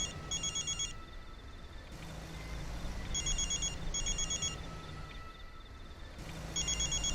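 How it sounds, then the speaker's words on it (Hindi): An electronic telephone ringtone trills in repeated bursts, roughly one second on and one off, over a steady low background hum, with no one speaking. "अब किसका फोन है?"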